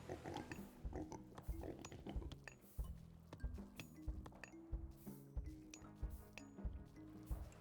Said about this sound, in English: We're about to harvest our last pig.